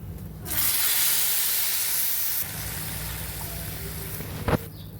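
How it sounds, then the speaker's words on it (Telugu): Boiled water hits a hot pan of roasted vermicelli with a loud, broad sizzling hiss and steam burst that sustains, then eases to a softer bubbling hiss, ending with a brief clank. "ఇప్పుడు ఇందులోకి మనము ముందుగా కాచుకున్న నీళ్లను ఇందులోకి వేసేసుకోవాలి"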